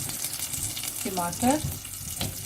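Tomato sizzles in hot oil with cumin over a medium flame while making bhindi masala, a steady close frying hiss with stirring sounds and a voice speaking briefly over it.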